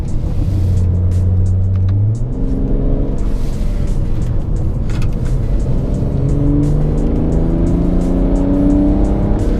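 A tuned BMW 335d diesel in sport mode climbs a twisty hill, its engine note rising steadily through the gears with loud, continuous rumbling acceleration and brief dips at each shift.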